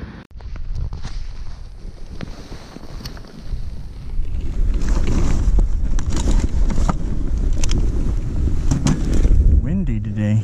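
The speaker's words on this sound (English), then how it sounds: "Windy today." Strong wind blows steadily across an open frozen pond, a dense roar that buffets the microphone throughout and grows heavier midway.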